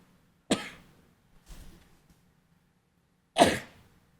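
One sharp sneeze bursts out at a public conservation commission meeting, then a faint small sound, then a second loud explosive sneeze or cough, each brief and fairly close in a quiet room.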